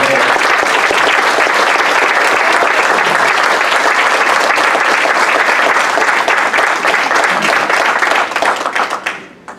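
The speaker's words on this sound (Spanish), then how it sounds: "un aplauso muy fuerte para él" Loud, sustained applause from a large audience at a Sindicato de Artistas anniversary seminar, dense clapping filling nearly ten seconds before tapering off at the end.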